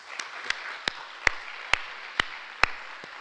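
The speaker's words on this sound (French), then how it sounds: "Donc on peut l'applaudir, je pense." Slow, sparse claps in a lecture hall, about eight distinct sharp hand claps spaced roughly evenly over a low background hiss, moderately near and isolated rather than a full crowd ovation.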